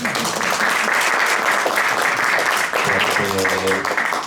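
An audience at a cultural event applauds a guest from Stockholm University. Loud, sustained clapping fills the room, and a voice begins speaking over it near the end.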